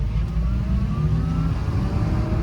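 RKS A1, a small Turkish-made electric car, pulling away from a stop, a loud steady low rumble of road and cabin noise with a faint rising motor whine, no voices.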